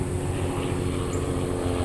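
A helicopter flies overhead, its rotor and engine making a steady, loud droning hum that holds through the whole stretch without any talk.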